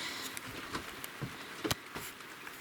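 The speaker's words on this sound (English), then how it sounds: "And it's raining." Light rain falls outdoors as a soft, irregular patter of scattered drops, with a few sharper individual hits standing out against a faint steady hiss.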